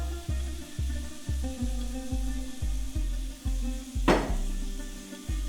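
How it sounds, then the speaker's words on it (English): Minced meat and oil on a freshly heated griddle give a faint sizzle, with steady rhythmic clanks of a utensil working the mince and one sharp metallic scrape near the end. "As you can hear, it's starting to sizzle slightly as I just switched it on."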